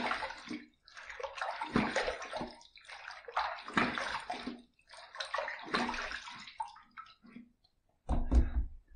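Water splashes in bursts as a face is rinsed after a wet shave, several sloshing handfuls with short quiet gaps between them and one last close splash at the end, with no voices.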